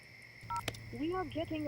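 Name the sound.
telephone number being dialed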